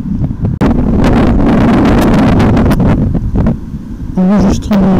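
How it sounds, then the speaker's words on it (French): Heavy wind buffets the internal microphone of a Drift Ghost XL dashcam outdoors in loud, rough gusts that rumble and crackle throughout, almost drowning out the faint background sounds. "Enregistrement extérieur avec du vent, le micro interne de la Ghost XL et sensibilité à 2."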